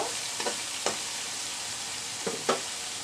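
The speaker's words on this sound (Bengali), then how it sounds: "পেঁয়াজ আর রসুন আবার ভালোভাবে কষিয়ে নিব" Onion and garlic fry in a pan with a steady, close sizzle, broken by a few scraping stirs.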